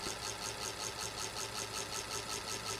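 A slowly turning electric motor in a Figuera device test hums quietly and steadily, with a soft regular pulsing throughout.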